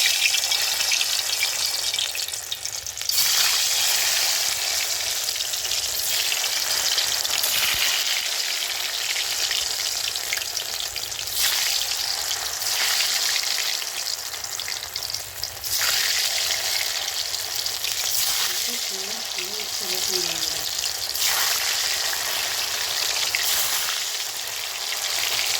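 Dough pieces hiss and sizzle steadily in hot oil in a kadai, a loud, continuous frying crackle for Maida chana curry that stays dense throughout with a brief bubbling flutter near the end.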